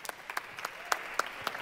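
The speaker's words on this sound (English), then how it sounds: "So round of applause for our team that's changing the couches." An audience at a Miami 2015 start-up event breaks into applause: a short, thin burst of scattered individual claps at a moderate distance, fairly quiet and irregular, with no one speaking over it.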